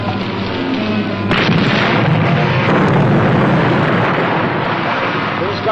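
A shell from an enemy shot bursts aboard a submarine, a loud, close explosion that hits sharply and then rolls on as a dense, rumbling roar for several seconds.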